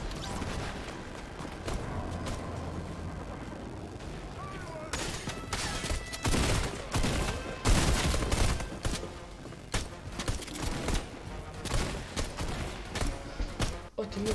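Video game shootout with a pump shotgun and a green pistol, dense overlapping gunfire bursts and bangs running continuously, loud and busy, with players chatting over the shooting.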